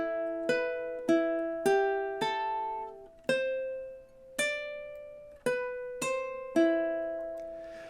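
Ukulele picking the Exorcist theme riff, a slow sequence of about eleven bright plucked notes ringing out one by one with clean decays, played alone.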